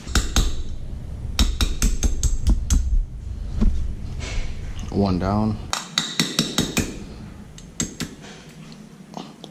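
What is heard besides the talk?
hammer tapping drill bit to knock out Brembo brake pad pins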